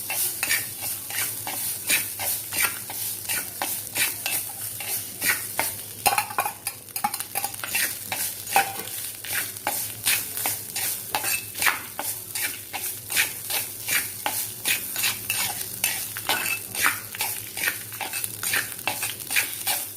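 Curry leaves rice is stirred in a pan with a utensil, making repeated rhythmic scraping strokes over a soft background sizzle, close and steady throughout.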